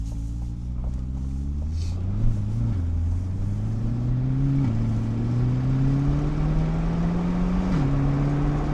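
A 2023 Chevrolet Corvette C8 driving in sport mode, heard from inside the cabin as a deep steady engine drone that rises in pitch and drops at each upshift, two or three gear changes, with no talking.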